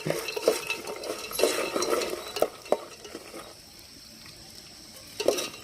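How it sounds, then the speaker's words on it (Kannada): Peanuts, urad dal and curry leaves being stirred in hot oil during outdoor village cooking, a spoon scraping and clinking against the pan in uneven strokes over a light sizzle, then briefly settling before another clink. "ಎಲ್ಲವನ್ನು ಎಣ್ಣೆಯಲ್ಲಿ ಸೇರಿಸಿ ಒಂದು ಕೈನಲ್ಲಿ ಹೀಗೆ ಆಡಿಸಿ"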